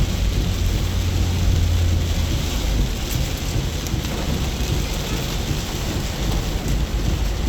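Heavy rain pours steadily in Malino, a dense, loud, continuous hiss of water with low rumbling thunder rolling underneath throughout, and no voices.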